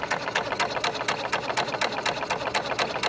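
A high-pressure HPA air compressor runs close by as it fills a 90 cubic inch tank toward 4,500 psi, making a fast, even mechanical chatter of rapid piston strokes that continues steadily with no pauses.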